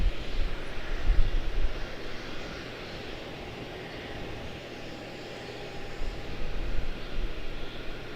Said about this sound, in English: A321-1265 American